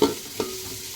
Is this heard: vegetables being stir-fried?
yes